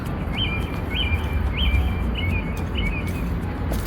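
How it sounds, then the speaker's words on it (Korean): Birds chirp in a repeated series of short, bright calls, evenly spaced, over a steady outdoor background hiss in a rural Korean setting, with no talking. "제가 사는 이곳은 새소리 들리고"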